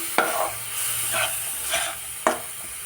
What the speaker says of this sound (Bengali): এবার এই মশলাগুলোর সাথে ভালো করে কষিয়ে দিব